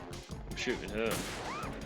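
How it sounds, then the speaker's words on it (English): Gunshots in Metal Gear Solid 2, a few sharp cracks mixed with ringing tonal game effects, fairly quiet and brief, with voices talking over them. "I'm shooting her."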